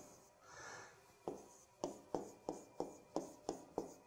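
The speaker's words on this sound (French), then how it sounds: "quand on va écrire l'intégrale" A pen scratches out an integral by hand: a soft opening stroke, then about eight crisp, evenly spaced strokes in a steady rhythm, quiet and close, with no talking.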